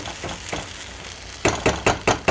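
Vegan egg foo young fries in a pan over medium heat with a steady sizzle, then a series of sharp scraping stirs as the bottom is broken up, close and fairly loud.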